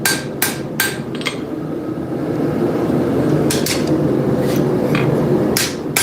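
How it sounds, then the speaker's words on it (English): A spear being forged with a hammer: a few sharp metallic strikes in quick pairs open the clip, then sparse blows ring out over a steady roar of fan or forge noise. "this is just the forging process"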